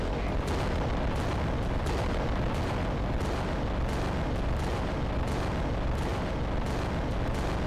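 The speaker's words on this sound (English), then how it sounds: "Let's just open fire with everything we've got." Titans in the war game Adeptus Titanicus Dominus firing every weapon at once, a continuous dense roar of booming cannon and explosions with no break, loud and thick throughout.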